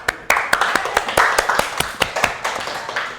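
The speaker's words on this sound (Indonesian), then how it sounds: "Ya, pinter sekali. Tepuk tangan anak-anak." Children in a classroom clap hands in a sharp, fairly regular rhythm of about a dozen crisp beats, close and loud, with a faint murmur of voices beneath.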